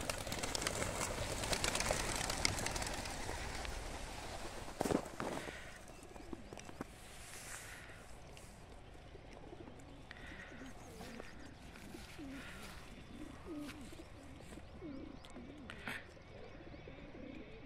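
Racing pigeons are released together for young-bird and open-bird derbies run by four clubs. A loud rush of flapping wings at the start gives way to scattered cooing and bird calls, while people talk faintly in the background.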